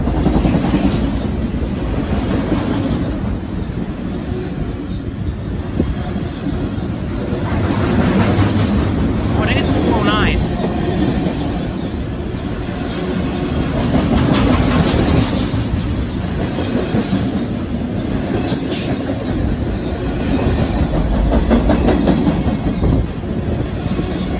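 Train rolling through a station in Union, New Jersey, continuous loud rumble and clickety-clack of passing cars close by, with occasional wheel squeal throughout.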